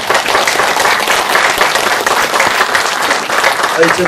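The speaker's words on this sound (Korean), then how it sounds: "뜨거운 박수로 우리 이국일 명인님의 강의를 듣도록 하겠습니다" A crowd at a New Year healing lecture gives warm, loud, sustained applause to welcome the lecturer, dense clapping filling the room with crowd noise mixed in.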